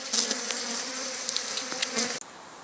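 Honey bees buzz steadily and close at an opened hive during a September inspection, a dense continuous drone that cuts off abruptly near the end, leaving faint background.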